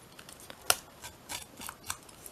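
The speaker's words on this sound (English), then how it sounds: "I will use my smaller scissors just to distress the edges" Small scissors snip along the edges of a chunky paper tag to distress them, a quick run of crisp, close cuts at an uneven rhythm, one sharper than the rest, with no talking.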